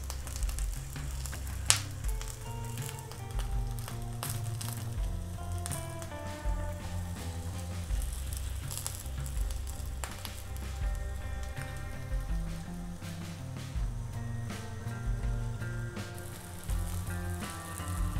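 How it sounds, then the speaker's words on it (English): Aubergines sizzle steadily in a hot pan while stuffed aubergine cooks, a continuous crackling fry with scattered pops running the whole time, no talking. "My aubergines are cooking away"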